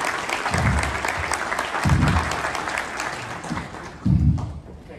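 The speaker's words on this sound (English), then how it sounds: "So let's give him another round of applause." A conference audience claps steadily after a presentation, the applause full and sustained, with a few louder bursts rising out of the dense patter.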